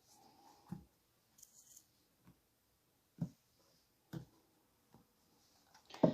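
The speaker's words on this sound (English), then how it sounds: "Okay, I'll cut the deck." Tarot cards being cut and shuffled by hand: several soft, brief card slaps and riffles spaced irregularly across a quiet room, with a sharper flurry at the end.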